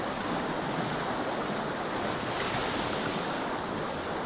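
Ocean waves in the sailing video game Pancake Sailor wash in a steady, soft, continuous surf with a breezy hiss, fairly faint and without voices.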